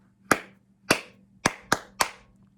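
Five crisp hand claps in an uneven rhythm, two spaced, then three quicker ones, close and clear with no talking, clapped back during a music lesson.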